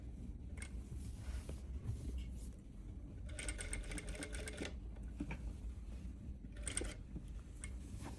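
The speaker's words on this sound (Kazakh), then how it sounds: "кәдімгі идеал жіппен тігіп жатырмыз." A sewing machine stitches a quilted dress with ordinary thread, running in rapid mechanical bursts of a few seconds separated by brief pauses, close and fairly quiet.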